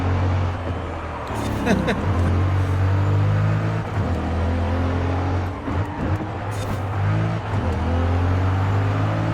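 A Corvette's engine in the racing game Forza Horizon 5 drones steadily at a low, constant pitch, with a few sharp clicks over the top.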